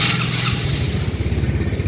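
Carbureted 115cc Yamaha Mio Soul scooter engine idling close by with a rough, uneven low putter that wavers and stumbles throughout, no talk over it.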